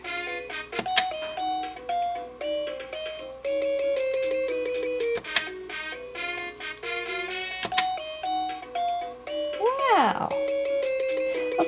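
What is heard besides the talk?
Dora the Explorer toy telephone playing music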